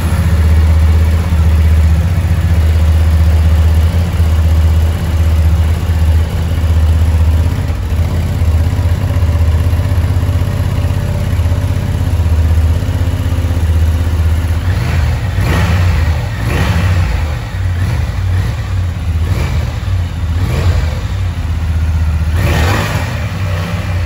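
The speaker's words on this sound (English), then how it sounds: "It's quite difficult to record engine noise on the road, but this was recorded in the garage when the engine was cold," Honda Transalp 750 parallel-twin engine idling cold in a garage, a steady loud drone that later breaks into several sharp revving blips near the end, with no talk.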